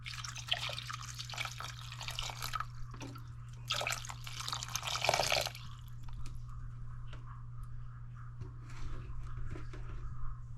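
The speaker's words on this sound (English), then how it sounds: "Have that in there, and then I'm gonna add some water." Water runs from a tap into a pot holding fevergrass, a splashing pour for about five seconds, then it stops and soft drips and small squishing noises follow over a low steady hum.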